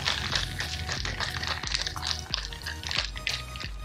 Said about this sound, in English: Then you're gonna shake.